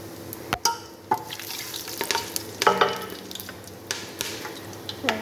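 Cardamom, cinnamon and cumin frying in hot oil in a pot for Ethiopian biryani, a steady close sizzle with scattered crackles and a few sharp spoon clinks and stirring scrapes.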